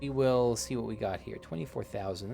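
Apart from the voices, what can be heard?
No distinct noise like a dog, phone or traffic.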